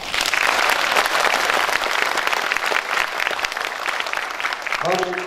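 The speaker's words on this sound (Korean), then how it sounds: "소개할 때 큰 박수로 환영해 주시기 바랍니다" An audience applauds loudly and steadily at a Korean political gathering welcoming officials of the New Politics Promotion Committee, and a voice speaks briefly as the clapping ends.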